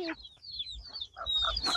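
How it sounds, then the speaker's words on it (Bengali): A local domestic rooster gives a short run of clucks and chirpy calls, fairly close, with quiet outdoor background between the calls. "ওই যে গলা পরিষ্কার যে মোরগটা, ওটা কি আমাদের দেশি?"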